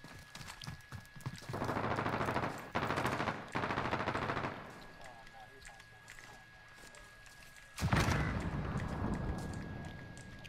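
Gunfire in a Call of Duty Modern Warfare match, with sustained bursts of shots in loud stretches and a sharp, heavy blast near the end, under and between players talking.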